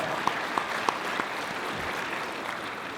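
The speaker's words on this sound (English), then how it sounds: "let's give us a round of applause" Applause from the audience at the Harker Heights Chamber of Commerce 2024 community celebration, a steady, fairly distant wash of clapping with a few sharper claps standing out near the start.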